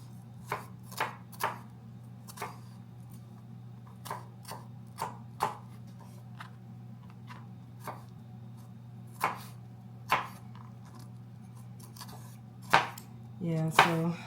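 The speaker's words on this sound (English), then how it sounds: "I'm chopping up half a bell pepper so that I can saute this inside the ground beef while it's cooking." A knife chops bell pepper on a board in irregular sharp taps, some single and some in quick pairs, close and clear over a steady low hum, with a brief rustle at the end.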